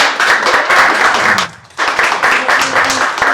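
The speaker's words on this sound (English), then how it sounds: "let's give you a round of applause" An audience at a conversation-and-coffee event gives a loud, close round of applause, with dense clapping, a brief near-silent gap midway, and then the clapping resuming just as strongly.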